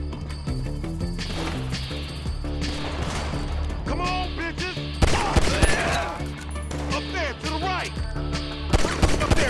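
Gunfire in GTA 5 pops in repeated bursts and scattered single shots, mixed with crashes and impacts over a dense game soundtrack, with excited voices shouting over the action.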